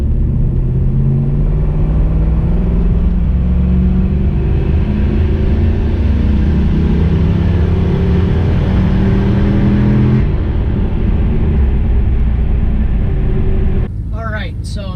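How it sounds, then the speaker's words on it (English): A turbocharged LS V8 in a Cadillac Escalade truck idles with a steady, deep low rumble, close and loud throughout, with a brief shift in tone near the end. "I'm in the truck, it's starting, it's idling"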